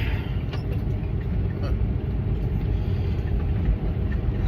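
A vehicle cruises along a road through East Texas in the morning, a steady low engine and road rumble heard from inside the cab, with no clear voices.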